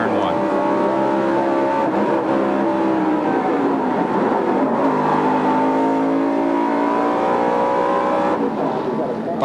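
NASCAR Winston Cup race cars roar into turn 1 at Charlotte Motor Speedway during the 1996 Coca-Cola 600, a loud, continuous pack of engines with shifting pitches as cars sweep past, over a steady crowd and track din.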